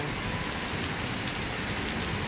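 Heavy night rain pouring steadily onto flooded town roads, a dense continuous hiss of drops on water and pavement with no voices.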